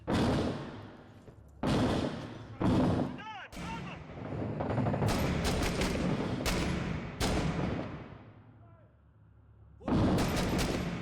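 Rapid bursts of gunfire in the video game 6 Days in Fallujah, several loud close volleys separated by short gaps, with one longer sustained stretch of shooting in the middle.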